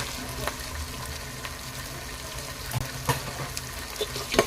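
Beans, carrots and green peas sizzle and fry in a pan, a soft steady crackle with a few sharper pops and stirring clicks near the end.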